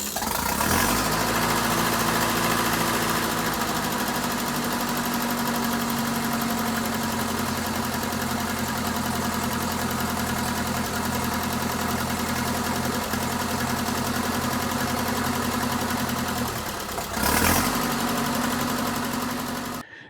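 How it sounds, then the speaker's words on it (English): A tractor engine cranks and fires up, then settles into a steady, loud idle with a low rhythmic chug and mechanical vibration, briefly revving or stuttering near the end. "when you're starting up the tractor"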